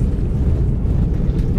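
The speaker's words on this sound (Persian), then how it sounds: "این صدای حرکت کردن روی زمین هست" A steady low rumble with a faint rattling texture from a flight simulator aircraft rolling on the ground, continuous and even throughout.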